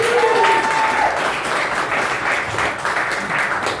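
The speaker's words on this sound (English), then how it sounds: "So round of applause for Johnson City and everybody that's willing to help out." Comedy club audience clapping in a short, moderately loud round of applause at a comedy night, with a brief whistle near the start.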